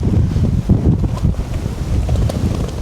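A strong nor'easter buffets a coastal beach, with steady loud roaring gusts and microphone wind rumble mixed with hissing blown sand, unbroken for a few seconds.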